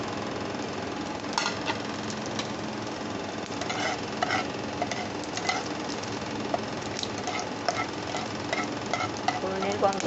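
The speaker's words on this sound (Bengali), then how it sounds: "এগুলি আমি সব ফোড়নে দিয়ে দিচ্ছি।" Cloves, a small piece of cinnamon and bay leaf sizzling in hot oil in a pan, a steady crackling fry with small pops throughout, no talking.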